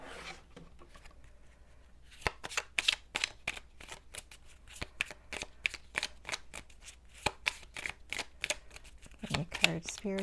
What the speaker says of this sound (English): I'm going to go ahead and shuffle all the cards first